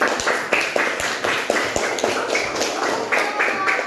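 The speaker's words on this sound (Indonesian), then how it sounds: "Tepuk tangan buat ya" Students in a classroom clap for a group's score, a loose, rhythmic run of sharp claps and taps at moderate loudness with some voices mixed in.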